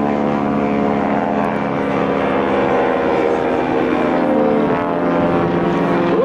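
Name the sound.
Stearman biplanes flying at an airshow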